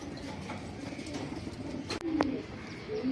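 Chocolate racer pigeons at a breeding farm give soft, low coos. One clearer call rises near the end over a faint, steady background hum.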